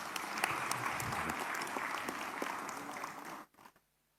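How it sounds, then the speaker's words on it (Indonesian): A chamber full of people at a parliamentary committee meeting breaks into steady clapping that runs for a few seconds and then stops abruptly, leaving near silence. "Boleh tepuk tangan dong."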